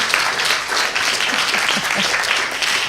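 A seated audience claps at a science communication competition final as the panel crosses the front to their seats, brisk continuous applause at moderate volume with a few stray individual claps standing out.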